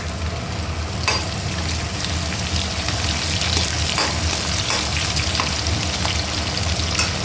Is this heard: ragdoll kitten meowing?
no